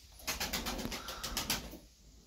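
Tumbler pigeons, a mix of males, young birds and breeders, cooing inside their coop, with soft repeated throaty coos in a steady run of close, moderately loud calls.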